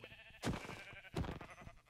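Two short sheep bleats sound in Minecraft, each a quick wavering cry, fairly quiet and heard alone.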